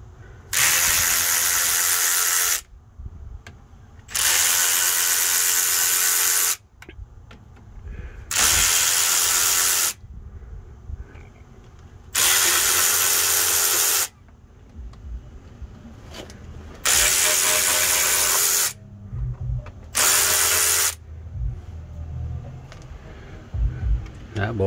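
A power impact tool backs out bolts on the rear axle of a 1998 GMC K truck, firing in six loud, sustained bursts separated by short pauses, with low rumbling workshop noise between them.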